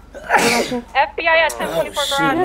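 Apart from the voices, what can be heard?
sneeze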